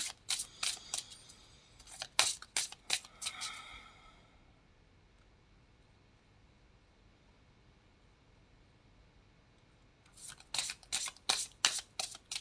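Reading cards are shuffled by hand in quick, crisp riffling bursts, a flurry at the start and another near the end with a quiet pause between, close and soft.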